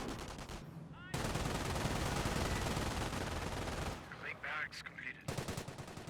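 Sustained machine-gun and rifle fire from a Company of Heroes 1 battle between Wehrmacht and British forces, with dense rapid bursts that stay loud and continuous before breaking into scattered shots with a voice over them.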